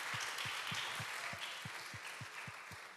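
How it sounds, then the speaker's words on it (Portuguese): A lecture audience claps in a fairly faint, steady rhythm, mixed with a few louder individual claps that land at regular intervals. "Salva de palmas aí."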